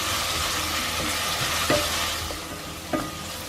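Onions sizzle over low heat in a pan as the base for risotto, a steady frying hiss with a few soft clinks of the spoon as they are stirred, no talking.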